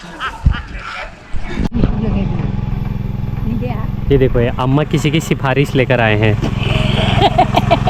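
A tractor engine chugs steadily in a farm field, a loud continuous low rumble running under close, animated talk.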